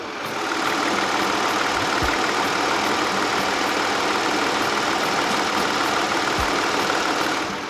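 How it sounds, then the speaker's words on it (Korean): A Kia K7 VG270 engine idles steadily and smoothly with a constant low hum, no voices, with a couple of faint low thumps. "자 마지막으로 엔진 소리 들어보고 마무리하겠습니다"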